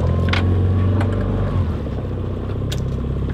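A fishing boat's outboard motor runs steadily on the ocean, a loud continuous low drone with a brief surge near the start, alone without talk.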